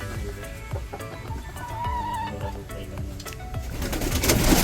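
A bird coos softly near its nest with eggs in a planting area, giving repeated low calls over background outdoor noise that grows louder toward the end.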